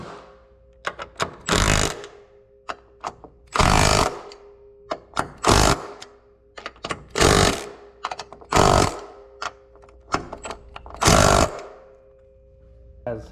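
A power tool drives bolts home on a 9VA brake brace fitted to a 6-speed TL. It makes about seven loud, rattling bursts, each a second or so long, separated by short pauses and softer clicks.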